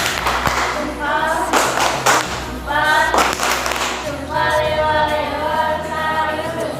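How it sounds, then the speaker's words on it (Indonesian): Schoolchildren in a classroom clap their hands in patterned bursts of quick claps, mixed with rhythmic group chanting and a teacher's voice throughout. "Tepuk tangan."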